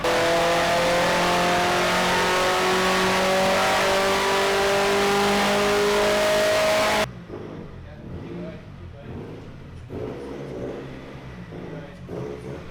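A VW Golf Mk1 with a 1.8T engine swap holds a loud, sustained rev on a dyno, then cuts off sharply; the turbo engine settles to a rougher, quieter idle with some knocking and clatter afterwards.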